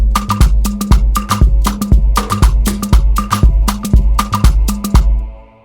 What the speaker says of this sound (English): It's an Omnisphere sound, voice choir and solos wheel. I combined it with a string machine from Korg M1